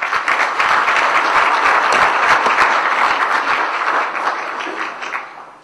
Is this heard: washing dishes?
no